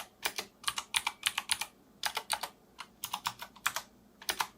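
Switches on a cheap, unmodded 60% or TKL mechanical keyboard click and clack in quick, uneven bursts of close typing, fairly quiet with brief pauses between runs of keystrokes.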